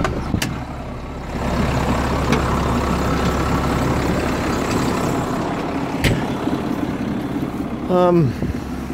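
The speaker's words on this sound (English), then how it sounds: "we're in the John Deere today, and she's 150 horsepower, so I think we've got enough power to pull that rake" A 150-horsepower John Deere tractor pulls a hay rake through alfalfa, its engine a steady low rumble throughout, with a few sharp clanks and a brief squeaky mechanical chirp near the end; a voice speaks under the engine.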